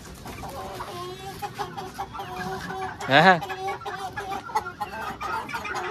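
A rooster at a pet house clucks in short bursts, with one loud, close squawking cluck standing out midway, while people talk nearby.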